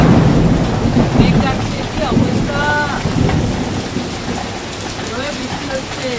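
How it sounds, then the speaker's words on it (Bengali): Heavy monsoon rain pours steadily on surfaces while thunder rumbles low, a continuous loud wash with a brief voice speaking over it. "বৃষ্টি হচ্ছে, এদিকে জল চলে আসছে আমাদের এখানে"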